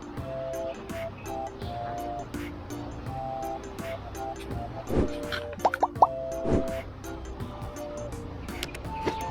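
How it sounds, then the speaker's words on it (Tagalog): Rainwater dripping in a workshop, a quiet series of irregular plops and drips with some tonal background hum and occasional faint voices nearby. "So umuulan po ngayon dito sa amin."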